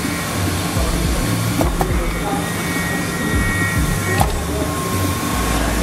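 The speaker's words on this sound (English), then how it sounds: "So we are using the laser soldering machine" A laser soldering machine fixing metal eyeglass frame parts in an eyewear factory gives a steady loud mechanical whir and hiss with faint tonal hums, plus a couple of brief sharp clicks.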